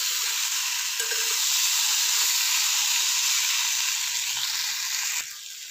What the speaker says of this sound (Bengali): যে তেলটাতে আলু ভেজেছিলাম ওই তেলটাতেই রান্না করছি